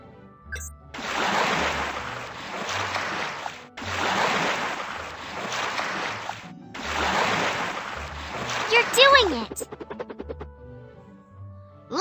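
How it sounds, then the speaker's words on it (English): Three bursts of pouring, splashing water, each lasting a few seconds with short pauses between, followed by a few light higher-pitched sounds. "Now we'll rinse the bubbles off with water."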